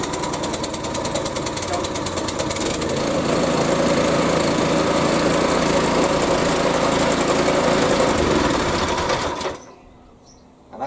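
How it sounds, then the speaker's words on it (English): A Hyundai HYSC210 212cc petrol lawn scarifier engine fires up and runs loud and steady with a rattling, buzzing drone for about nine seconds, then cuts off abruptly into near silence. "Go back in and start the machine."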